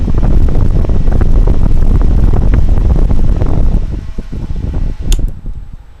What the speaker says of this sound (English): now this fan blows a whole lot more air. You might be able to hear the wind noise in the camera